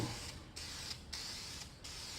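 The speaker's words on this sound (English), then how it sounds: "Remember to keep this 8 to 10 inches away and spray until you're off of the lens." Aerosol spray paint can hissing in three bursts onto a 1998 Jeep Grand Cherokee ZJ Limited tail light lens for a smoked finish, steady broadband spray with short pauses between passes, close and moderately loud.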